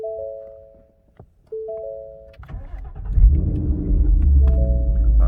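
A 2015-or-later Ford Mustang is shut off and restarted: soft dashboard chimes sound twice, a click, then the engine cranks and catches into a loud, steady idle rumble close by.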